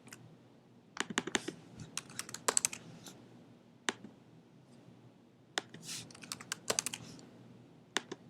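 Bursts of typing on a computer keyboard while entering a search location: clusters of quick, close key clicks separated by short pauses, over a quiet room hum with no talk.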